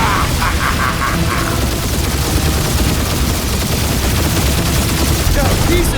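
Continuous loud gunfire and blasts in the game Guardians of the Galaxy, a dense, unbroken fusillade running the full length, with character voices faintly in the mix.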